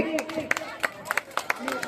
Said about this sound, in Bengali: ওদের জন্য জোরে হাততালি।